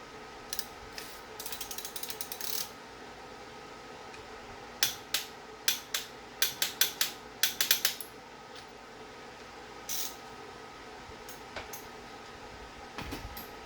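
A ratchet tightening 9/16 bolts during a cam install on a 2011 Harley-Davidson Dyna Street Bob, heard as several close bursts of quick metallic clicks with pauses, the busiest run in the middle, over quiet shop background.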